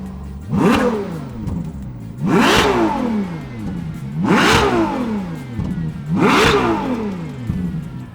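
Four loud revs from a Ferrari 812 Superfast with stock exhaust at a steady interval, each surging up and falling away sharply, with a deep exhaust rumble and no talking.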